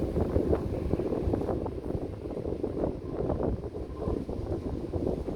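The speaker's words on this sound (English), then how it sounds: "Boy, I tell you, the wind is strong, so strong." Strong wind blows steadily across an outdoor shooting spot where a Crosman F4 pellet rifle is being sighted in, a continuous low rumble of buffeting against the microphone.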